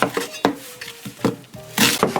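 Knife chopping onion on a cutting board for blending, a series of sharp, uneven thuds and taps up close, with some clattering and scraping in between.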